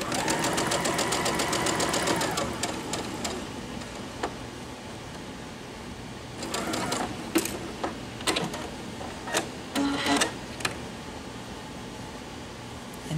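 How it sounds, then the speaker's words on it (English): A sewing machine stitches quilt half-square triangles with a quarter-inch seam, running in a steady rapid burst at first, then in short, uneven spurts with pauses between. "And then I'm going to stitch them, the quarter inch seam allowance."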